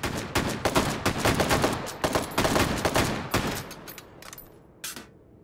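FAL tactical rifle fired in the VR shooter Hot Dogs, Horseshoes & Hand Grenades, a rapid string of loud, sharp close-range shots in bursts, thinning out to a few final cracks and echoing tails.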